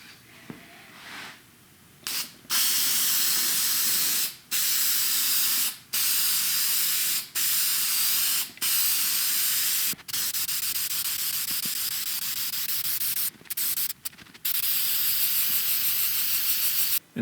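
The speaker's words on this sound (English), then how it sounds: "I'm going to go over this with a black lacquer, and I'll go in both directions to make sure that I get into each crevice" Black lacquer sprayed from a can over a carved wood board, sounding as a series of close, loud hissing bursts of one to two seconds each with short gaps between them, no talking.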